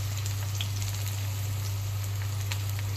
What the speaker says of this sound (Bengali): আলুটা আর পেঁয়াজটা ভালো করে ভেজে নেব